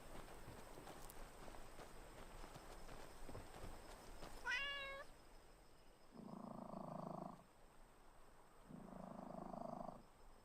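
A cat meows in the Skyrim video game: a brief, bright, wavering meow cuts through a steady ambient hiss, then two longer, lower tonal calls follow, each a couple of seconds long.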